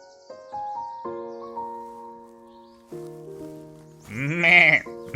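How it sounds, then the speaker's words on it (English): A sheep bleats in a short, wavering cry, loud and close, after a run of gentle plucked melody notes. ""Maa, maa," bleated the sheep."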